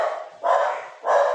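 A somewhat agitated dog barks loudly and close by, two sharp bursts separated by a short pause, with no voices in between.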